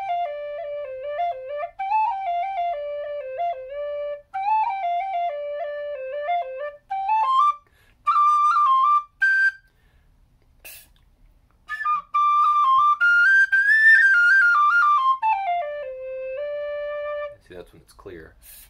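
A soprano tin whistle made of brass plays a clear, resonant melody in sustained phrases, separated by brief pauses and a short breathy break, loud and close with no voice.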